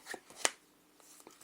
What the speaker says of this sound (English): finish up the shuffle